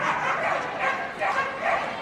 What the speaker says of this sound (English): And those dogs are really, really psyched up, aren't they, Graham?